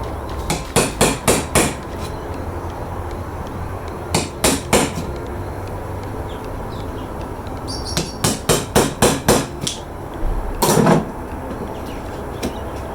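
Steel hammer tapping a sharp chisel into timber while cutting a joint for a small wooden box, sharp knocks arriving in quick bursts of three to six, close and fairly loud, with no talking.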